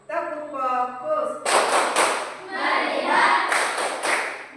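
In a classroom, a class runs a rhythmic focus-clapping routine. It opens with chanting voices, then sharp group claps land in short bursts, mixed with more chanting.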